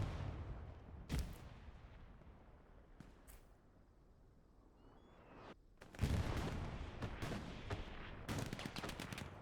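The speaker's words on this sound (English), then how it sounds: "Machine guns putting some work down." Bursts of machine gun fire in a competitive multiplayer shooter match, sharp broadband rattles at the start and a dense, louder volley in the final few seconds, with quieter stretches between.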